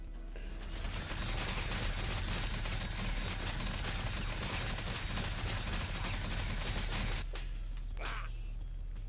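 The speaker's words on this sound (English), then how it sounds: "Alright, so now we got the Bratlin gun." Bratlin gun firing in the shooter Rawmen: a loud, unbroken rapid burst of automatic gunfire lasting about seven seconds, then stopping abruptly, followed by a couple of short trailing clicks and thuds.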